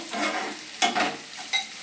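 Sliced onion frying in a pan while being stirred, a steady soft sizzle with a few sharper scraping strokes of the spoon, close and fairly quiet.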